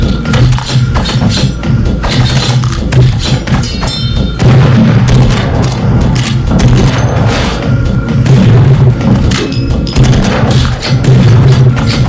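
Heavy booms and thuds from a grenade blast in the shooter game Project Nexus, with dense low rumbling and repeated loud impacts across a chaotic battle.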